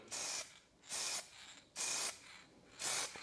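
Four hissing sprays from a spray bottle in an even rhythm, each lasting about half a second, close and clear with short pauses between.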